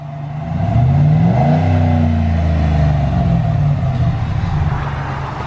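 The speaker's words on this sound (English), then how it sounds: "So I'm gonna get you kind of a stock startup." Ram 1500 pickup truck on its stock exhaust, engine revving up from idle then settling back to a steady, fairly muted drone, heard up close with no speech.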